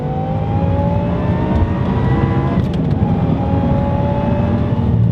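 A manual supercharged Audi R8 pulls hard up a hill, its engine a loud, steady, rising drone that holds throughout with no break.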